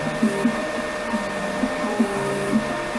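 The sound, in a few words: Creality K1 Max 3D printer running auto-leveling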